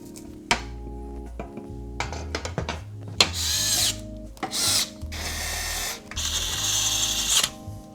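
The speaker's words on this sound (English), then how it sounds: "I'm gonna use this DeWalt electric screwdriver so I can save some time" A DeWalt electric screwdriver drives screws into a standing desk in repeated whirring bursts of varying length, close and loud, separated by short pauses and light handling clicks.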